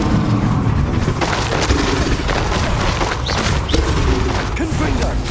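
Blasting Bombarda spell explosions in Hogwarts Legacy, a dense run of loud booms and crashing impacts with debris, continuous and close, under a busy game soundscape.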